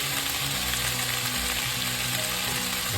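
Bitter melon and beef stir-frying in a hot pan, a steady dense sizzle with low scraping stirs of the spatula running through, continuous and close for the whole stretch.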